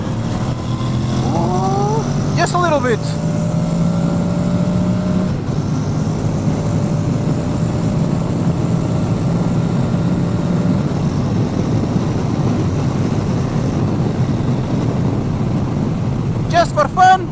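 A 2021 Honda NC750X motorcycle engine revs up and pulls away steadily with traction control on, its rising drone sustained and loud, with a brief spoken remark at the start.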